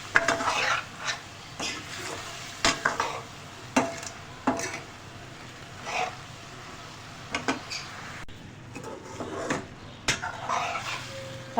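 Achari masala with fennel and nigella seeds cooking in a pan, a soft steady sizzle broken by repeated scraping and clinks of a spoon stirring against the pan, close and fairly quiet.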